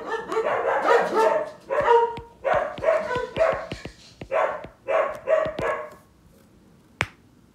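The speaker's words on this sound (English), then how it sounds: "now that you heard my dogs go crazy" Several dogs bark in repeated loud, close bursts, a rapid run of yaps and woofs that breaks off abruptly into quiet near the end, followed by one sharp click.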